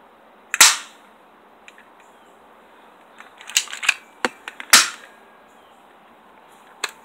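Gunshots fire as sharp, loud cracks: a single shot early, then a quick irregular burst of several shots, then one last isolated shot, with no voices.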